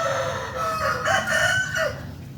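A rooster crows close by in one loud, drawn-out call of about two seconds, rising and falling in pitch, with no other sound around it.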